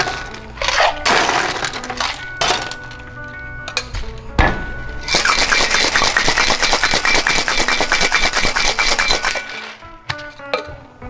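Ice rattling hard inside a cocktail shaker while a margarita with orange juice is mixed, a dense rapid clatter of cubes against metal that runs steadily for several seconds after a few sharp knocks, loud and close, with no talking.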